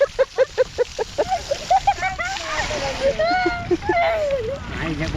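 Water splashes in a flooded rice paddy during planting in the Konkan, with a quick run of rhythmic sloshes at the start and then uneven splashing while voices call and chatter over it.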